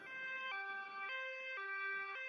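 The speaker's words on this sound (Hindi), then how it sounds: "एम्बुलेंस लाडो को लेकर अस्पताल की तरफ निकल पड़ती है।" A two-tone cartoon ambulance siren alternates steadily between high and low pitches, about a half-second each, clear and alone with no talk.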